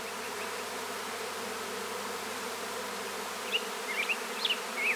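Honey bees in a steady, dense buzz around backyard hives during a cleansing flight, with a few louder individual bees zipping close past near the end.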